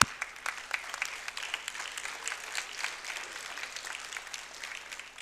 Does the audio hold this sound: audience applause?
yes